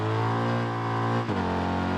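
A Triumph motorcycle engine in the RIDE 3 racing game revs loud and steady, then its pitch drops abruptly as the bike shifts gear and pulls on again, with no voices.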